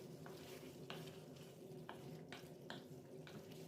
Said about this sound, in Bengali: আবার একটু লাড়া দিয়ে দিলাম।